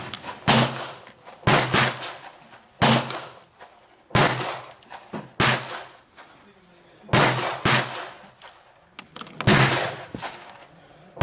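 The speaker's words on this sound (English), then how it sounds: "I have two 170 grainers I'm going to fire" Revolver chambered in .38 Special firing 170-grain loads, about nine loud, sharp reports at irregular intervals of one to two seconds, each decaying with a short echo.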